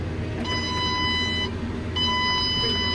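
A crop sprayer's warning beeper sounds two sustained electronic tones about half a second apart as the tractor crawls over dry, bumpy ground, above a low engine rumble.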